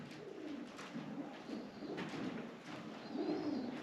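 Pigeons cooing inside the old stone walls of a church in the Flinders Ranges, soft repeated low coos overlapping across a quiet, reverberant interior with faint background hiss.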